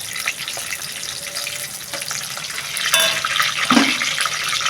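Chopped onions fry in hot oil in a home kitchen, giving a steady loud sizzle and crackle that swells briefly as more onion goes into the pan, with no talking.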